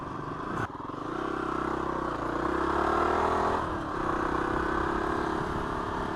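A Kawasaki KLR 250 motorcycle with a freshly rebuilt carburetor rides onto a gravel road, its engine droning loud and close, with gear changes, rising revs and gravel crunch beneath.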